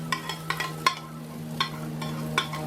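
BBQ pork and beans stirred in a pot: a handful of distinct spoon scrapes and knocks against the pot, irregularly spaced, over a quiet low hum and faint simmer, close and clear with no talking.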